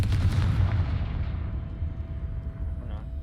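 A Confringo spell blast from the Hogwarts Legacy video game: a single heavy explosive boom that rolls into a rumbling decay over a few seconds, loud and close.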